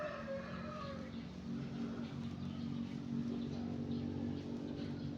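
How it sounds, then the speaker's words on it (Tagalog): Neighbours' chickens cluck and call from a short distance in a quiet residential spot, faint drawn-out calls at first over a steady low background hum. "Pasensya na po sa ingay ng mga manok, no, kasi yung mga kapitbahay ko dito is may manok."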